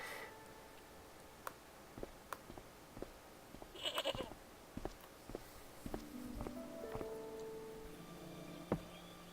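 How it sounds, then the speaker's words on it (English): A goat bleats in the video game Broken Sword, one quavering cry in the middle, with quiet footsteps and small clicks around it. "that is one demonic-looking goat"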